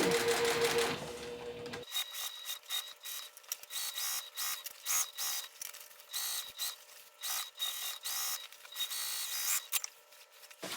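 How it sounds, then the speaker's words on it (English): Sewing machine stitching around the edge of a fabric basket, a close, fast stuttering run of needle strokes with a motor whine, starting after a brief higher hum. "Just keep sewing all the way around, rotating the bag, or the basket I should say, as you need to."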